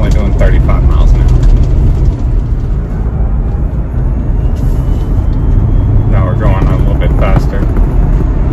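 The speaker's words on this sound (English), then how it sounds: "As you can hear, it's already flapping and I'm only doing 35 miles an hour." A Suntop cargo top on a Jeep JL flutters and buffets in the wind at about 35 mph, mixed with steady road and cabin noise, close and loud, with a voice talking over it.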